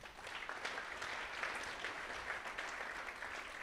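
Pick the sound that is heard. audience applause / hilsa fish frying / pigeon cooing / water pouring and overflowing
audience applause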